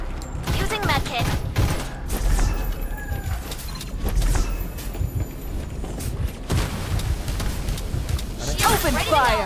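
Gunfire in the battle royale game Farlight 84, dense bursts of shots and booms mixed with engine and mechanical noise, with voices talking over much of the action.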